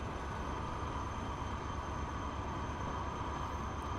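Diesel trains racing up a mountain line in Transport Fever, a steady loud rumbling engine drone with no breaks and no talk.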